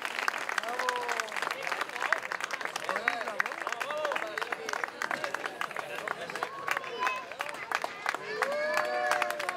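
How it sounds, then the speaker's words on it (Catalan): A crowd applauds firefighters after a traffic-accident rescue drill in Blanes, with a victim freed from an overturned vehicle. Steady, dense clapping runs throughout with crowd murmur and voices mixed in. "Un aplaudiment per aquests bombers, vinga!"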